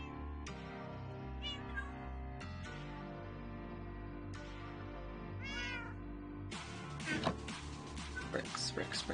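A cat meows several times indoors, short rising calls scattered over a constant hum, with a clattering bustle of handling and movement building toward the end.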